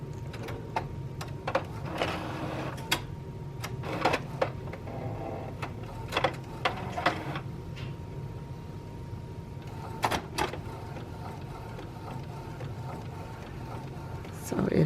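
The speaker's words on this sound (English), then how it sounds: "So it is printing." A home printer printing a design onto paper, giving repeated mechanical clicks and whirring carriage passes over a steady hum, with a person talking in between.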